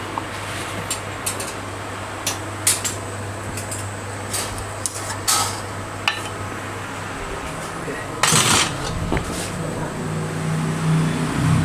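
Chopped fermented gourami fish (pla ra) is stir-fried in a pan, with scattered metallic clinks and scrapes, a louder clattering burst near the end, a steady low hum underneath and a faint voice at times.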